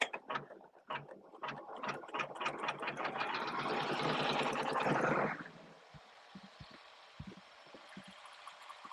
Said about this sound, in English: I'm just going to let the machine run. It's going to run about 7 minutes and stitch the quilting on this block.